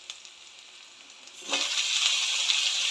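Tomatoes drop into a pan of frying egg curry masala, and a quiet hiss suddenly swells into a loud, steady sizzle that carries on close up, with no one talking.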